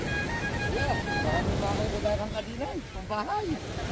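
Rough sea surf rolls and wind buffets steadily, close and loud, under people talking.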